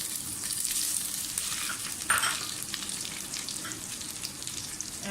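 Whole spices and green chillies sizzling in hot oil, a steady close crackling fry with a brief louder pop midway, no voices.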